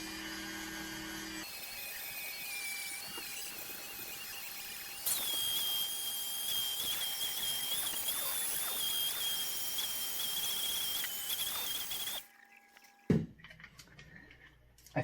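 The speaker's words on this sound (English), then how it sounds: "I'm going to try to use this grit real quick to kind of smooth out those lines" A rotary tool spins a grit attachment against an AR9 part, smoothing out marks: a steady high whine with a tonal squeal that rises in pitch midway, running continuously for about eleven seconds, then cutting off abruptly.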